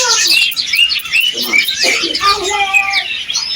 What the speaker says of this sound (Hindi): यहाँ पर भी माशाल्लाह बहुत सी चिड़िया हैं खूबसूरत सी